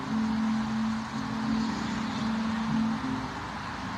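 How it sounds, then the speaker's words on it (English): A steady low traffic hum drifts in from a distance, continuous and even, with a faint engine drone rising and falling slightly beneath it and no voices. "we just kind of hear the hum of traffic"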